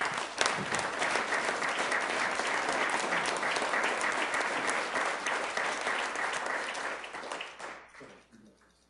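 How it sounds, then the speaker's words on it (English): Audience applause at a Sioux Falls city council meeting: many people clap in a strong, steady round that gradually thins and dies away near the end. "Let's give him a round of applause, please."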